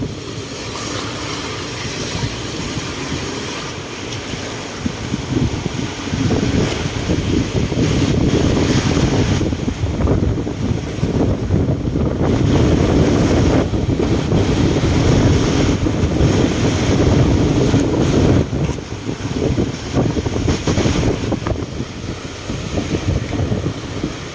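Steady rushing of high-tide surf and gusting monsoon wind against the microphone, loud and continuous with no voices.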